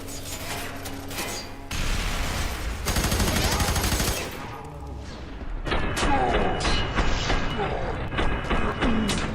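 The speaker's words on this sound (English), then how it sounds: "You take bullets to the head and keep shooting at me." Dense gunfire in the shooter F.E.A.R. 3: rapid automatic bursts and heavy thumps crowd together in loud, overlapping volleys, with mechanical clatter between them.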